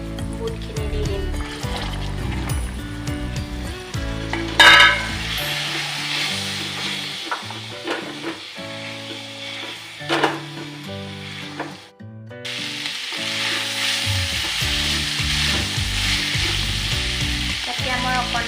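Chickpeas go into a pan of hot oil and softened tomatoes for chole paneer, setting off a steady close sizzle with scraping stirs and brief clattering bumps, a short pause, then the frying resumes loudly.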